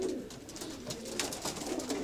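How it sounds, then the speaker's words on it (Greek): Pigeons of the sasania breed cooing in a loft, soft overlapping coos against a faint rustling background, with no voices. "Ωραία εικόνα, ωραία περιστέρια όμως."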